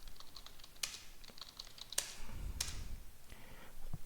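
Several quiet, uneven key presses on a computer keyboard as a root password is entered during an Arch Linux install, with a few sharper clicks standing out.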